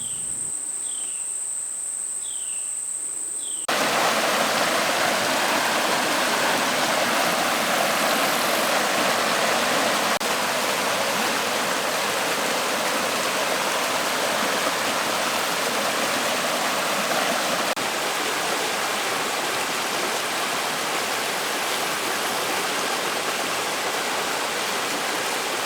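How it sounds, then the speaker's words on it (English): Steady broadband rush of water pouring over the Osage Hills Waterfalls in Oklahoma, a constant loud hiss filling the scene after a quieter opening with faint insect chirps, no voices. "I took a quick hike out to the Osage Hills Waterfalls"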